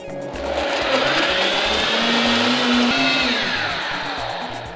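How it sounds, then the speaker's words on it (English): An electric blender grinds uziza seeds for a soup, whirring loudly and steadily with a rising and falling motor pitch, running alone for several seconds. "I'm gonna cover and blend."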